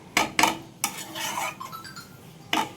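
A ladle scrapes and knocks against a pan as cooked jhinge aloo posto, made of ridge gourd, potato and poppy seed with nigella seeds, is poured out. Sharp metallic clanks come in short bursts with scraping between them.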